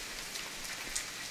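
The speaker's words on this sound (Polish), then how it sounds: "chociaż pada deszcz." Steady rain falls in the survival video game The Forest, an even, continuous hiss of drops with no talking over it.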